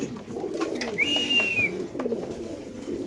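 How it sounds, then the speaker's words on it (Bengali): A racer pigeon coos once at a pigeon farm, a close, clear rising-and-falling call over a low murmur of other birds and background noise. "এটা মিলি মাদি কবুতর মাশাল্লাহ খুব সুন্দর"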